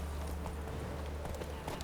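Roach, a horse in The Witcher 3, gallops in a fast, steady clip-clop of hooves that runs the whole way through, set against a dense game backdrop with no talking.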